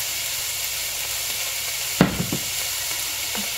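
Food frying in olive oil, a steady close hiss and sizzle that carries on throughout, with a few soft knocks of stirring partway through and no voices.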